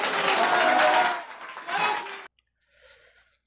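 Village audience clapping together in a burst of dense, loud applause that fades, swells briefly again, then cuts off into near silence with a faint trailing murmur.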